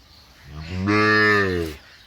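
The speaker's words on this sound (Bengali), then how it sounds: "কারেন্ট হাট থেকে কেনা গরুগুলো সবগুলোই কিনছেন মাজারুল ভাই" A cow bought at a cattle market gives a single long, loud moo close by, swelling for about a second and then fading away.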